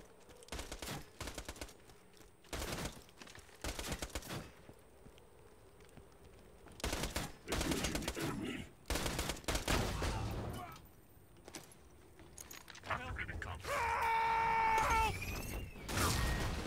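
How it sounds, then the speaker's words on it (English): Bursts of gunfire from the video game Borderlands 2, rapid automatic volleys in irregular clusters separated by quiet gaps, with mechanical game effects near the end. "I'm hearing more gunfire than usual."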